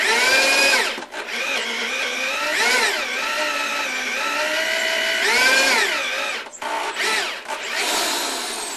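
A power drill driving a tenon cutter and a Forstner bit into a log, a loud whining bore that rises and falls in pitch as the load shifts, with brief pauses between cuts.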